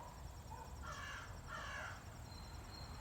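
A crow caws outdoors in the sun, two harsh calls in quick succession at moderate distance over a soft, steady background hiss.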